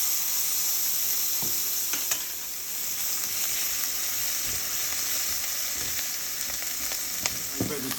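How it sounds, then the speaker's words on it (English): Garlic sizzling in olive oil in a pot, a dense, even hiss of frying held close and steady for several seconds, with a few faint clicks and a high whine in the background, no speech. "Then I throw some olive oil in my pot. Then I add a teaspoon of garlic."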